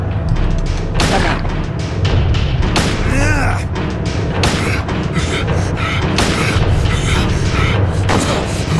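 Gunfire in the Silent Hill 2 HD Collection game: repeated booming shots and thuds in irregular bursts over dense, loud game noise, with a player's voice talking over it.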